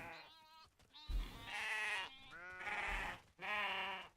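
Goats bleat in The Great Circle, several loud wavering cries one after another from a large herd gathered in one spot, close and clear.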